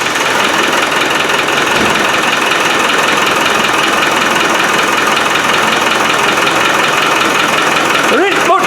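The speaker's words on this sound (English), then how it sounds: "I'm going to start the engine up" A Land Rover 110 with a 200 Tdi diesel engine idling loudly and steadily close up, with a constant rough clatter and drone throughout that holds unbroken to the end.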